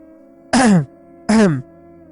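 Two short, throaty throat-clearing bursts, close and fairly loud, separated by a brief pause over a low steady background hum.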